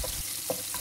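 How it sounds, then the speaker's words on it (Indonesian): Crumbled salted mackerel fries in a pan until slightly crisp, a close, quiet sizzle with a few soft stirring scrapes and small pops over one short moment. "Goreng sehingga agak garing."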